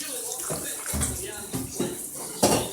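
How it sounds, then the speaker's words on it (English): Water is poured into a bowl while making slime at home, a splashing gush with faint clinks of the container, fairly close. "Now I'm going to put in the water."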